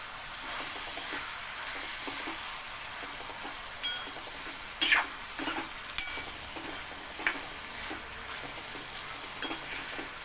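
Cluster beans (gavar), a Vidarbha-style vegetable made without any water, cook covered over a low gas flame with a faint, steady sizzle and scattered small pops and clicks.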